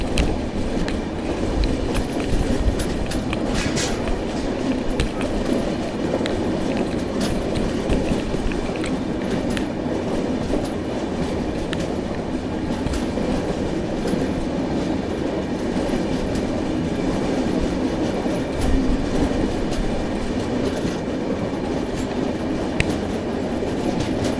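A fast Bengaluru–Vijayapura express train runs on its rails, a steady loud rumble with rhythmic clickety-clack of wheels over joints and faint high wheel squeal, continuous throughout with no talk.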